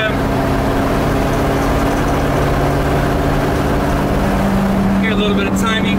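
A 390 engine with Sniper 2 EFI in a high-boy truck runs steadily at 2000 RPM with a loud, constant, close drone. A brief higher tone cuts in near the end.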